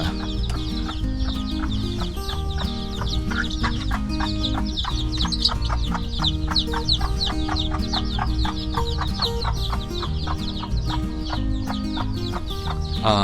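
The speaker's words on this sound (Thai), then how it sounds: "นี่ก็ผลผลิตของไก่แจ้มาแล้วนะครับ" Bantam chickens raised as breeding pairs in a mixed coop keep up a steady, dense chorus of overlapping clucks and calls, loud and close throughout with no talking.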